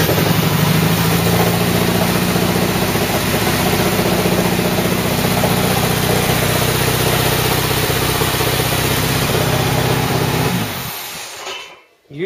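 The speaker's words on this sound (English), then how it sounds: "You just heard Ruby's engine fire for the first time" A Ford Cortina Mk3 engine, still being primed during restoration, fires for the first time and runs loudly and steadily at idle, with a rough mechanical rumble, for about ten seconds before cutting out abruptly.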